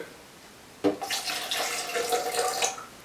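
Water is poured into a container of egg as the base for a banana and oat omelette, starting with a sudden splash and then a steady broadband gush that keeps going to the end, close and fairly loud, with no talking.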